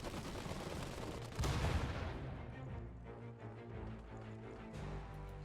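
Gunfire in the World War strategy game Iron Harvest: a dense, sustained barrage of shots and heavy booms, loudest in a burst near the middle and rumbling on steadily afterward.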